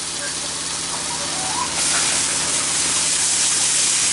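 Beef, cauliflower and broccoli sizzle hard in a hot wok, a loud continuous hissing spatter that swells louder partway through, with no talk over it.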